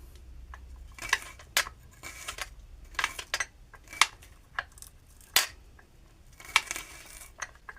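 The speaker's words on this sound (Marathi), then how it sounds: "आता मी कांदा चिरतो" Sharp knife chopping onion on a board while preparing Maharashtrian chole bhaji, a dozen or so crisp, irregular cuts at close range with short pauses between them, no talking.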